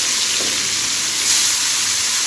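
Vegetables, eggplant among them, frying lightly in a pan for a Bengali tangra fish curry, giving a steady, close sizzle and hiss that stays even throughout, with a brief swell partway.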